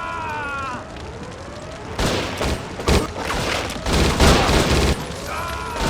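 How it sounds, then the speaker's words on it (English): Lawgiver pistol standard fire in the 2003 shooter video game Judge Dredd: Dredd vs Death, heard as rapid, loud bursts of shots that come in clusters after a quieter start. "Standard fire is far more fast shooting than I would expect, not far off an SMG."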